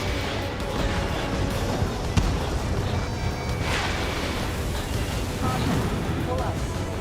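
Missiles launching and exploding in the Ace Combat 7 jet combat game: a dense, steady roar of engine and blast noise with a sharp thump near the middle, loud throughout and with no clear gap.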